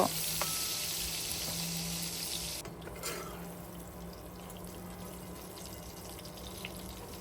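Stinging catfish coated in turmeric and salt frying in hot oil, a steady bright sizzle that is louder at first and then settles to a softer continuous crackle.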